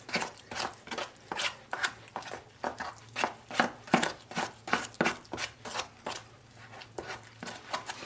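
Tile grout being mixed by hand in a bucket for a backsplash, giving a steady run of close, rhythmic scraping strokes, roughly two per second, with no talking.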